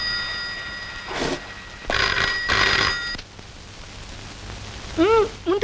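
An old-style telephone bell rings in short bursts in a police officer's home in a Telugu drama, three rings followed by a brief warbling tone near the end.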